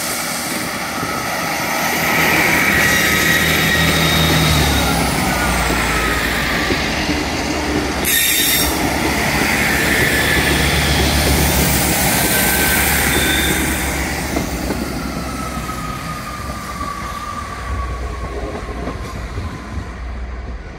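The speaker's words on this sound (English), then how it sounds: "As a 195 slowly comes into this platform." A Class 195 diesel multiple unit slowly pulls into a platform at Manchester Piccadilly station. A steady, loud rumble builds over the full span, with high, drawn-out wheel squeals rising and falling, and no one speaks.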